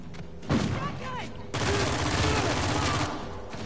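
Gunfire in the video game Uncharted 4, a sustained barrage of shots with a sudden heavier burst midway, loud over the game's background action, with a voice speaking among the shots.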